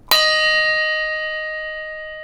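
A single bell struck once, a bright clang that rings on with a clear sustained tone slowly fading, heard alone and close.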